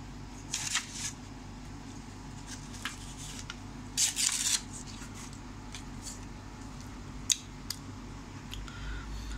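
A fake paper banknote bought online is torn, giving a few short, crisp rips and crackles up close. Quiet gaps separate them over a steady low background hum.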